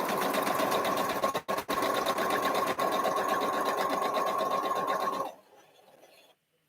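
A sewing machine stitches quilt blocks in a loud, steady, close run of rapid needle strokes, with two brief pauses, before stopping and leaving a faint hum.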